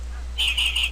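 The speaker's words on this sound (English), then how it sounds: "click any of the birds, and you're going to hear their song" Finch song played back from an online recording: a short bright chirping phrase of a few quick repeated notes over a low steady hum, heard alone.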